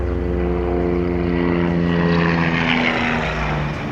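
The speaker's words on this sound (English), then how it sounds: "here comes the helicopters" Steady low engine drone with strong harmonic tones and rotor-like throb, loud and continuous as helicopters pass close overhead near Butte, Montana.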